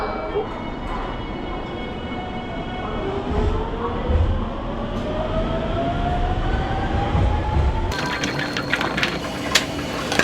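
A local train rolls into Shizuoka Station with rising and falling wheel squeal and steady rumble, ending in sharper clanks and rattles as it slows.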